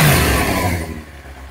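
A Kawasaki ZX9R motorcycle engine revs just after a carburettor clean: a loud, brief burst of engine roar that quickly drops away toward idle.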